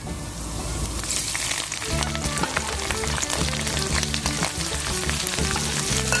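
Pork cracklings fry in hot oil with a dense, crackling sizzle that jumps up sharply after the first couple of seconds and keeps popping steadily, close and loud.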